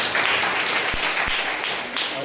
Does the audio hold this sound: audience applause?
yes